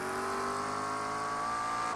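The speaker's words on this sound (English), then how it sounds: "Listen to that 720s purr." A McLaren 720S GT3 race car roars past at high revs during a GT3 Open round, its engine note steady and loud and rising slightly in pitch over two seconds, with a faint hint of tire noise.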